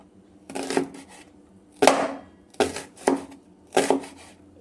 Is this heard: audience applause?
no